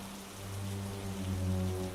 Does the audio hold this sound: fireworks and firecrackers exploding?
no